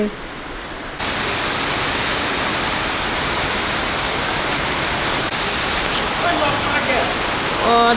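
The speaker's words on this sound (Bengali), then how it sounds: "ঝোরে বৃষ্টি নামতেছে সকাল থেকে খুব জোরে জোরে বৃষ্টি নামতেছে এখন আরও বেশি জোরে" Heavy rain pours steadily outdoors on a rainy day, a dense, loud, continuous hiss that swells slightly partway through, alone without talk.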